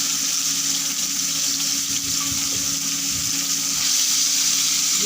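Fish pieces frying in a pan, a steady, dense sizzle that holds close and fairly loud from start to finish with no pauses and no talking.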